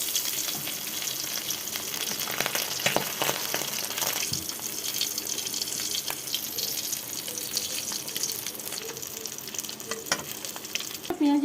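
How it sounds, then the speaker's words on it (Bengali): A fish fries in oil in a wok, giving a close, crackling sizzle that runs steadily throughout, punctuated by occasional clinks and stirring scrapes. "তো বন্ধুরা, একটা মাছ ভেজে নিচ্ছি।"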